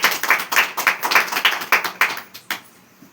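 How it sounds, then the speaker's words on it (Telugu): A church congregation clapping in unison during a Sunday sermon, a dozen loud rhythmic claps in steady beats that slow and fade toward the end. "మనం గట్టిగా చప్పట్లు కొట్టండి"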